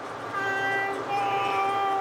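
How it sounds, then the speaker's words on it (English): An airport people-mover train rides and rounds a turn, with a steady rumbling hum and a bright sustained tonal whine or squeal that shifts pitch partway through, heard up close from inside the car. "Here's the train. It's taking up some speed."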